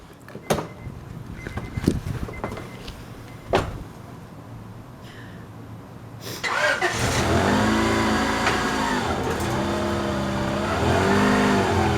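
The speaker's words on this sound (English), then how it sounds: "David, back it up real quick on this level piece of concrete" Honda Accord wagon with newly lowered suspension starting up and reversing onto level concrete; its engine rises to a steady close hum with gentle revving after several earlier clunks and knocks.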